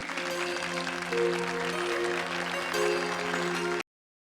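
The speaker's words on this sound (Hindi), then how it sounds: "तालियों से स्वागत कीजिए प्लीज" An audience claps to welcome a show-stopper onto the stage at a show, the steady clapping mixed with a tonal musical backing that swells partway through, then cuts off abruptly.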